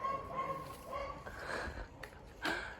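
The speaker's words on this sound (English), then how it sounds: "That little dog is very noisy." A small dog barks and yips in the distance, a few short bursts rising and falling, faint and somewhat muffled against quiet room noise.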